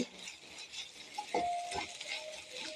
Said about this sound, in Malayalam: ഇതെല്ലാം കൂടെ ഒന്ന് നല്ലപോലെ ഒന്ന് ഇളക്കി കൊടുക്കാം